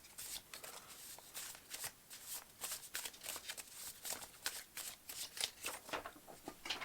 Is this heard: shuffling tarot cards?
yes